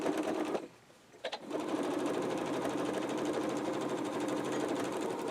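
Home sewing machine running steadily as it stitches a fabric face mask and backstitches at the end, a brief pause near the start before the continuous mechanical whir resumes, close and fairly loud.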